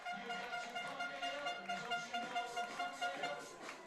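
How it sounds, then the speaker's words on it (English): A sustained, blaring air horn sounds from some distance over a noisy outdoor background at a baseball game. "We got the air horn out today."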